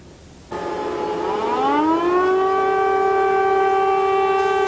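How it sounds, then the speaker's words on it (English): An air raid siren wails over Tel Aviv during a 1991 Scud missile alert, a loud steady tone rising in pitch after a sudden start and then holding level, alone with no voices. "Sirens over Tel Aviv."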